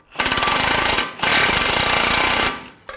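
A power tool rattles in two loud, steady bursts while snugging down the lower ball joint nut on a 2007-2013 BMW 328i control arm, with a short pause between them.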